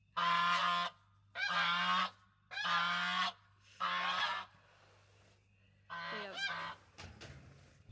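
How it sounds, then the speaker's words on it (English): A goose honks loudly and close by, four long evenly spaced calls, then a pause and a shorter, wavering honk, with quiet between them. "we just got to hear their first goose call"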